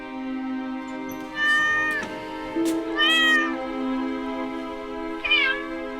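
A cat meows three times, drawn-out and plaintive, over a low steady musical drone.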